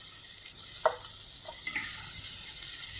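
Spinach and boiled chickpeas frying in a pan over a medium flame, giving a steady soft sizzle with a few light clicks and scrapes of stirring, heard close and alone.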